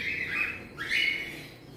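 Grey harlequin cockatiels give two close, shrill squawks in quick succession, each a rising screechy call over quiet room noise.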